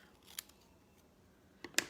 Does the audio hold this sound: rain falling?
no